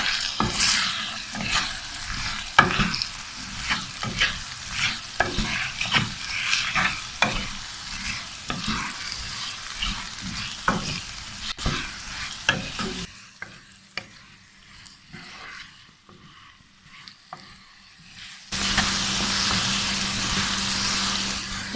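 Potatoes and ground spices fry in a pan while a spoon stirs and scrapes repeatedly, with sizzling throughout. Near the end, a brief quieter stretch gives way to a steady, louder sizzle.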